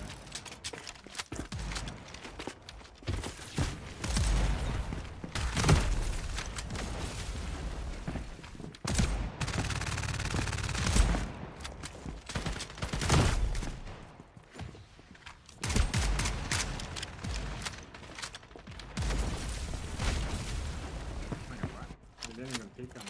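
Gunfire in the FragPunk shooter video game, bursts of rapid shots in repeated volleys with short pauses between, loud and close, mixed with footsteps and game effects.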